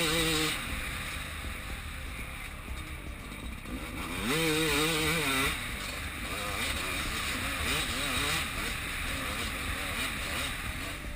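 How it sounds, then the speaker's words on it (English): A 2013 Husqvarna WR300 with a 292cc two-stroke engine rides at a motocross park, its buzzing, raspy exhaust rising and falling in revs at a moderate distance, with brief voices underneath. "The WR300 is powered by a 292cc two-stroke engine fed by a 38mm Management Carburettor with V-Force 3 reeds"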